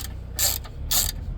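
Ratchet clicking in two short bursts while backing out bumper bracket bolts on a 2017-2022 Ford F250, close and fairly loud, with mechanical rattles between the bursts.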